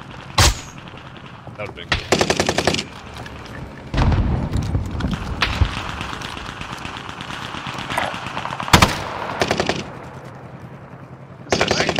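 Call of Duty Warzone SMG fire on Rebirth Island: several sharp, loud bursts of rapid shots separated by pauses, with a brief spoken voice in between.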